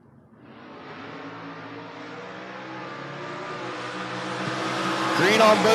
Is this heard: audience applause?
no